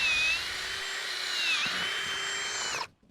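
A power drill bores steadily through a wooden fence post, a sustained high whine that dips in pitch midway as it bites, then cuts off abruptly near the end.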